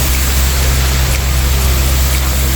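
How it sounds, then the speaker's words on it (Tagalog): Heavy rain pouring down under trees, a loud, dense, unbroken hiss of falling water with a steady low rumble beneath and no voices. "Inabot po kami ng malakas na ulan."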